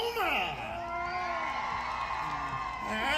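A rodeo crowd at an Oklahoma arena yells, whoops and cheers, a broad steady roar that swells at the start and end, with voices rising above it.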